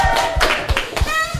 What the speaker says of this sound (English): a round of applause from our improvised crowd